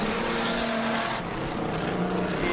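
Street stock race cars at Adelaide Motorsport Park come in at the end of a heat, engines droning loudly and steadily, with one car's pitch rising and falling as it passes.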